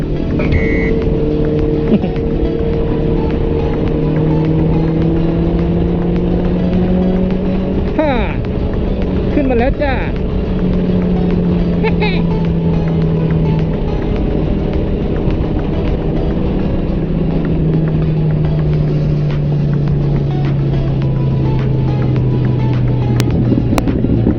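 A car engine hums steadily while driving, with a smooth drone whose pitch slowly rises and falls and a few faint clicks and rattles, under someone talking.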